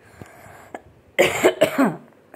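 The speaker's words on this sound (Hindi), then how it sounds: "जुकाम के वजह से मुझे खांसी आ रही है" A short burst of harsh coughing from a person with a cold, two or three rough hacks close to the mic, following a quiet stretch with faint clicks.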